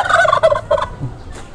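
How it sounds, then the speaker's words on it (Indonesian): A pair of turkeys, one a male, gobbles close by in a quick, loud rattling burst, followed by quieter background noise. "nih ayam kalkun."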